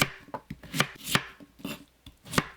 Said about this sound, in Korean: 무 200g을 썰어 주세요.